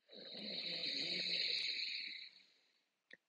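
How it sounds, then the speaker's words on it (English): A person draws one long, steady breath in through a single nostril during a yoga breathing exercise. The breath is close and airy and lasts about two seconds before tapering off, and a brief click follows. "And now breathe in."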